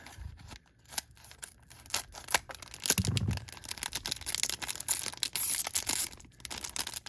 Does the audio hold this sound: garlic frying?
no